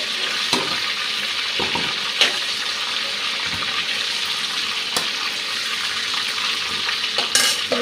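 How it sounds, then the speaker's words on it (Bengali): Chicken pieces frying in oil in a pan for a chicken curry, a continuous close hiss of sizzling with occasional sharp clinks and scraping of stirring, no talk. "এদিকে চিকেনটা ভাজা হয়ে গেছে প্রায়"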